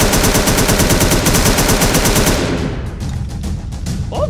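Scar L assault rifle fire in a video game: a rapid, loud automatic burst of rhythmic shots for about two seconds, then stops, leaving sporadic softer reports and ambient noise.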